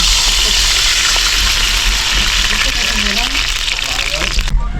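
Water hitting hot cooking oil in a frying pan while making sweet and sour adobo, giving a loud, steady broadband hiss and sizzle that runs throughout before cutting off sharply at the very end.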